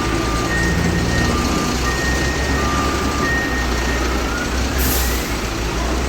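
A tanker truck maneuvers at a fuel pump: a steady loud diesel engine rumble with intermittent faint reversing beeps and a brief air-brake hiss near the end.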